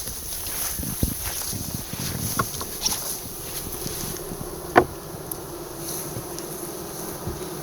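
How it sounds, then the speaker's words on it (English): Honey bees droning around backyard hives, a soft continuous buzz close by, with occasional faint knocks and rustles and no talking. "Austin, let's check out these hives"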